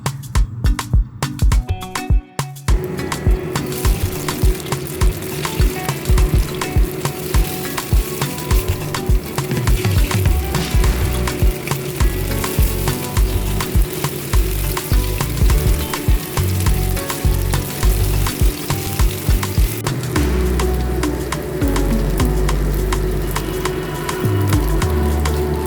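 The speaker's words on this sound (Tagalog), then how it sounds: "Una po natin gagawin ay i-prito muna natin ang manok." Chicken pieces fry in a pan over lowered heat for sotanghon, a steady dense sizzle with crackling pops running throughout, loud and close with no talking.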